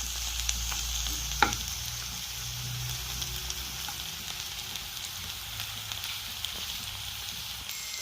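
Okra and fenugreek seeds fry in oil over a low flame, giving a steady, soft sizzle with occasional small pops and clinks throughout.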